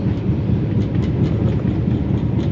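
A Cairo to Aswan sleeper train rolls on, heard from inside as a loud, steady low rumble with faint rhythmic clatter on top, and no voices.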